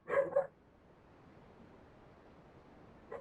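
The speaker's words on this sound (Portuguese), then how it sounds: "cachorro." A dog in the GTA Vice City Stories game on PS2 gives a quick double bark, fairly close, then quiet ambient hiss with a faint thump at the end.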